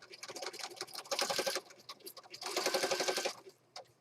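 A sewing machine runs in two bursts of rapid, even stitching around the outside edge of an accordion fold journal, with a short pause between runs and a faint click at the end.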